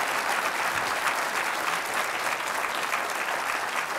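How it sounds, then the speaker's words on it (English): Sustained audience applause at the EVE Fanfest 2012 presentation, a dense, even wash of many hands clapping at once that holds steady from start to finish. "So if you guys could give him a round of applause."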